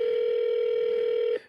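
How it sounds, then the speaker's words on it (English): A telephone ring tone on an outgoing podcast call, one steady loud electronic note held for over a second before cutting off abruptly, with no voices over it. "Hope we're ringing through"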